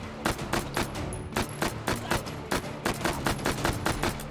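Rapid gunfire from a gun fired like a pistol in the VR shooting game Hot Dogs, Horseshoes & Hand Grenades, a steady string of sharp, loud shots repeating several times per second throughout with no talk.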